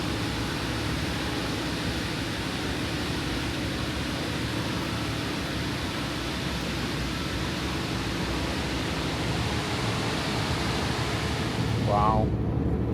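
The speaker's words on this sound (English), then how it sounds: "You can hear the waterfalls with the noise from that waterfall." Steady, loud broadband roar of water pouring over smooth dark rocks from a waterfall close to a small boat near Dawes Glacier in Endicott Arm, Alaska, continuous throughout, with a brief voice near the end.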